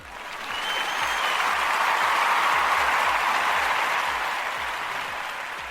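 A crowd applauds a Houston lawyer, Tony Busby, with dense, sustained clapping that swells and then gradually eases off, filling the room at a steady level.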